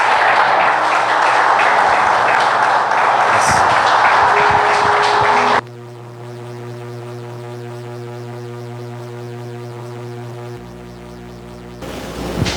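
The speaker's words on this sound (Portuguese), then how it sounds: "Uma salva de palmas para Jesus" Church congregation applauding during a worship service: dense, loud clapping fills the first five seconds, then breaks off into sustained keyboard music.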